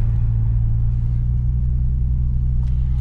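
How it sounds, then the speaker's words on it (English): A 1992 Nissan Skyline R32 GTS-T with its turbocharged RB20DET engine and five-speed manual produces a steady, loud low rumble from close by, running continuously without a break. "It makes cool little turbo whooshy noises."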